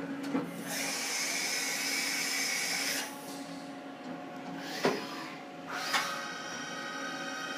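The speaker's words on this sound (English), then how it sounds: "So right now it's doing the drilling operations." A machine drills a part in an engineering technology lab, giving a steady whining run for about three seconds, then a lower hum broken by a few sharp clicks and short bursts, heard up close.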